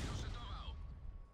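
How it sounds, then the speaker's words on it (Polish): A heavy tank cannon blast in World of Tanks opens, booming and loud, then decays into a low rumbling tail with a fading whine. "To jest strzał, który zadecyduje o tym,"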